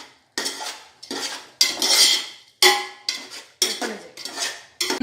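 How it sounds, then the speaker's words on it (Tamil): A spoon scrapes and clanks around a metal pot of chicken biryani with coriander and mint, five or six loud, close stirring strokes in a steady rhythm with short pauses between, no voices. "கொத்தமல்லி புதினா ஆட் பண்ணிவிட்டு நல்லா கிண்டி விட்டுருங்க"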